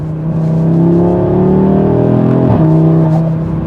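A 2024 Audi RS3 (8Y) on the move, its engine a loud, steady, close drone that holds pitch, then drops briefly partway through before settling again.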